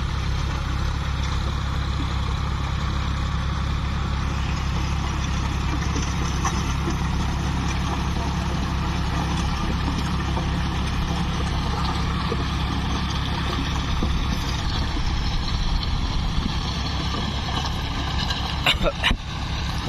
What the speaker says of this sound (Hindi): ये बाजू वाले का चल रहा है ट्रैक्टर,